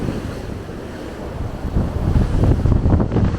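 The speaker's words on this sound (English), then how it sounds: "This is the windiest spot, this corner." Strong wind roars across a boat's deck on a grey day, buffeting the microphone with a constant low rumble over the wash of waves, and gusting louder toward the end.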